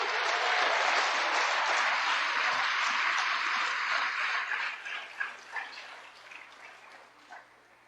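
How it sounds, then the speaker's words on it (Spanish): A church congregation applauds during a sermon, a dense wash of many hands clapping at once, loud and steady at first before thinning out and tapering off, with a few last scattered claps. "Dele un aplauso a Jesús."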